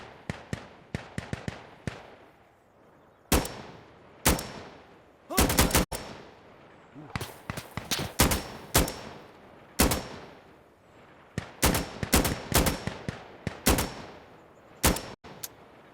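AK rifles fire in Insurgency: Sandstorm, heard as loud, sharp single shots and short rapid bursts with gaps of quiet between them and some echo trailing after each volley.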